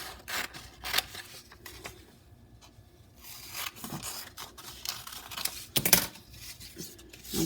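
Scissors cut through a paper matte frame. Steady close snipping and rustling paper, with repeated short crisp cuts and no one talking.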